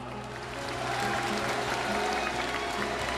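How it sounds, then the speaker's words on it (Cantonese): A crowd claps together in a steady burst of applause that carries on for a few seconds. "我哋俾啲掌聲阿叔啊"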